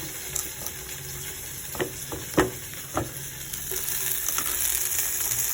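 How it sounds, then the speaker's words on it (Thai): Garlic sizzles and crackles while being stir-fried in a hot pan, with a few sharp clanks of a utensil stirring against the metal. "แล้วก็คั่วไปเรื่อยๆนะครับ สังเกตดูว่าสีกระเทียมนี่จะออก สีเหลืองทองทอง"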